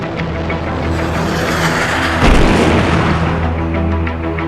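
A huge siege cannon fires during the Ottoman siege of Constantinople: a deep, heavy boom lands midway through a loud, continuous rumbling roar that fills the whole stretch.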